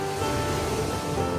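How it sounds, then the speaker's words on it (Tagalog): Strong sea waves roll in as a dense, steady roar of surf, loud and close, with no voices over it. "Malalakas po dyan ang alon."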